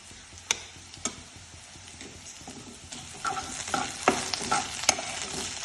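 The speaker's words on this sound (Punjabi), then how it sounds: "ਪਿਆਜ਼ ਵਿੱਚ ਭੁੰਨ ਲੈਂਦੇ ਆ ਪਿਆਜ਼ ਨੂੰ ਆਪਾਂ ਹਲਕਾ ਜਿਹਾ ਬਰਾਊਨ ਕਰਨਾ" Onions frying with garlic-ginger paste in a pan, a soft sizzle growing busier as a spoon stirs, with sharp scrapes and clicks repeating toward the end, no talk.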